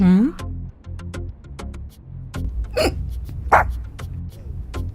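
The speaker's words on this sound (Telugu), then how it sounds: "ఏమైంది? ఎక్కిళ్ళు వస్తున్నాయా ఆంటీ?" Several sharp hiccups pop out over a low hum and background chatter, spaced irregularly, with a louder one near the middle.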